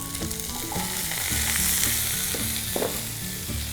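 Baby corn sizzles in about two teaspoons of hot oil in a pan, a loud, continuous close frying hiss with crackles and some stirring clatter throughout.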